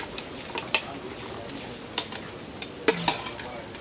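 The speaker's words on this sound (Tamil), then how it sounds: "இப்போது அந்த ஆயிலே வந்து நல்லா ஒரு 5 நிமிஷம் வந்து பரட்டி விட்டுக்கிட்டே இருக்கணும்." Spicy Tamil Nadu-style mutton (goat) chukka stirred as it fries in oil, with scattered scrapes and clinks of a spoon against the pan and a light sizzle underneath.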